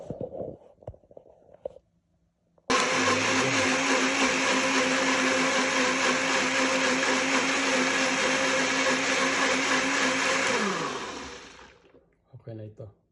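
A blender whirs loudly and steadily for about eight seconds while blending chicken soup ingredients, then winds down, with brief talk before and after.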